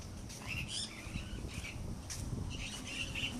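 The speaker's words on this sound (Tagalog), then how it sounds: "Ang dami ibon dito." Several birds chirp outdoors in short high bursts, scattered and fairly faint, over a low rumbling background with no voices.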